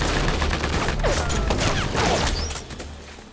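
Heavy gunfire fills a D-Day battle scene on Omaha Beach, a loud dense barrage of overlapping shots and crashing impacts that stays close and continuous before easing slightly at the end.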